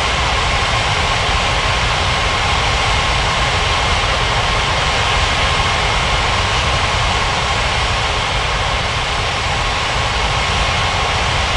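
Jet airliner taxiing to runway 27 at Ngurah Rai Bali International in Unmatched Air Traffic Control, a steady, loud, unbroken engine roar and whine that holds without change from start to finish, with no voices.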